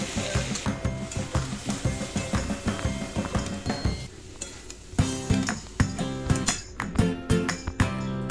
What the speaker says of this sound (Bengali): এরপর বেগুনগুলো ভেজে নেব। বেগুনগুলো ভালো করে ভেজে নিলাম